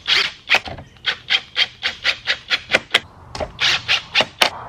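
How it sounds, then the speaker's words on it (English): Screws being driven back into the mirror housing of a 2024 GMC Sierra 2500, a steady run of about fifteen short, close rasping turns in quick rhythm, with no talking. "Put our screws back in."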